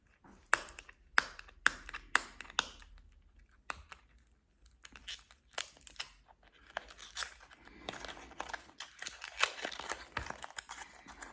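Cosmetic packaging being opened by hand, a run of crisp crinkles, taps and small clicks in quick irregular bursts, close and fairly quiet, growing busier toward the end.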